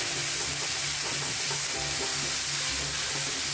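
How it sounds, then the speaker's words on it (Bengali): Onion paste and garlic fry in hot oil in a pan, a steady close sizzle and crackle with soft stirring throughout and no talking. "এটাও ভালো করে রসুনের সঙ্গে ভেজে নেবো"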